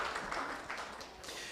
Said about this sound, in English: Let's give a round of applause for our gold sponsors.